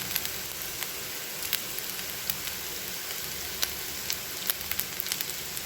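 Sliced onion fries in hot oil with a steady crackling sizzle dotted by sharp pops and spits, close and continuous, with no one talking.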